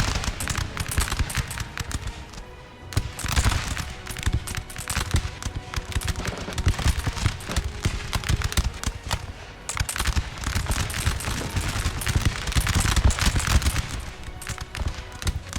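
Dense, rapid musket volleys and artillery crackle almost without pause in a Napoleonic battle in Napoleon Total War, loud and continuous with layered bursts rising and falling throughout.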